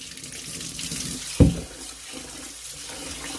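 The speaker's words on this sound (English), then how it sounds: "And I also want to show you how I rinse out my rice. Okay? So cold water." Cold water runs steadily from a tap into a sink for rinsing rice, with a brief louder splash partway through.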